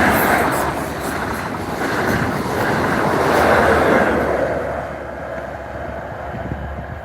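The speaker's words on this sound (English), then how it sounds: "And it's only just the one train that's coming." A train, 43130, rumbles past at close range in Stirling, a broad roaring wash that swells and then slowly fades.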